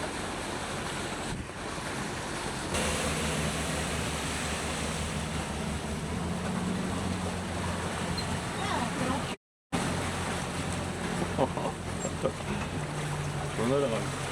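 Wake from a passing boat rolls in as waves against a small vessel, with steady splashing surf and strong wind buffeting the microphone, lasting throughout.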